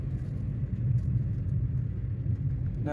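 A car driving along during a driving lesson, a steady low engine rumble and road noise heard from inside the cabin, continuous and moderate, with no talk.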